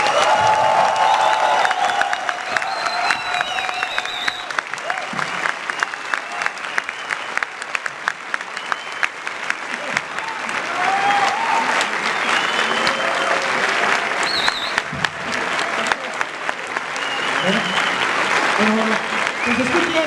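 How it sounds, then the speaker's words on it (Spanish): A large audience at La Mole Comic convention gives a long, loud ovation for Frank Miller and Brian Azzarello, with scattered cheers and voices mixed into the sustained clapping. "Les pido un aplauso muy mexicano para estos dos que nos dan."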